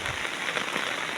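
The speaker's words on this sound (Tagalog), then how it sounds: "Grabe nga ulan oy." Heavy rain pours down as a dense, steady hiss of drops hitting surfaces, continuous and close with no pauses.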